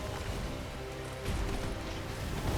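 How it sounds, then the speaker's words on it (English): Steady rain falls in the video game Dark Souls 2, an even, moderately quiet hiss of drops on surfaces with a slight swell partway through. "It's raining just like in Britain."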